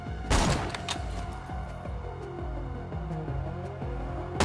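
Gunfire in the Borderlands 2 video game: a burst of sharp shots at the start, then scattered single cracks and thumps over a steady game background.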